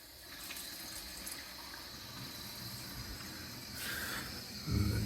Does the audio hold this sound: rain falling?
no